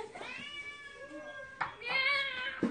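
A hungry cat meows near a cooking class, two drawn-out, wavering cries close by with a short pause between them, over faint background sound.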